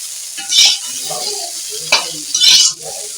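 Fish and cauliflower being stir-fried in a pan with very little oil, seasoned with salt and turmeric: a steady low sizzle broken by two louder bursts of scraping and stirring, close by, with no talk.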